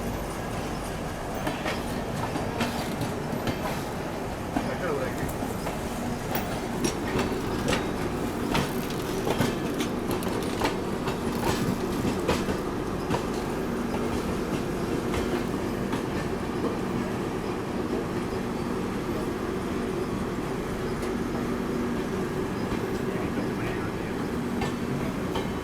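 A passenger train pulls into Bhusawal Junction, a steady dense rumble with rhythmic clickety-clack of wheels and occasional metallic squeals, continuous and fairly loud throughout.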